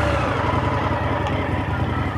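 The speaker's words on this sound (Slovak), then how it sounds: "Na voľnobeh ten zvuk o ničom špeciálnom nevypovedá." Steady engine idle from a stock-exhaust Indian FTR 1200 motorcycle, a continuous low, even rumble held close and fairly loud, with no throttle changes and nobody talking.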